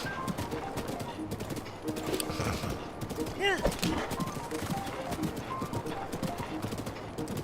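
Horse hooves clip-clop steadily on a path in the video game Breath of the Wild, a continuous rhythmic trot with game sounds mixed in.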